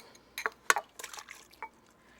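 Water is swirled in a bowl to dissolve yeast for thick Pugliese focaccia, giving soft, quiet sloshes and light clinks against the bowl in a few short bursts.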